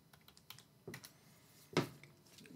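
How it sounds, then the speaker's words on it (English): Quiet typing on a computer keyboard, with a handful of soft, irregular key taps close by and one sharper keystroke. "let's just type in LiveGood"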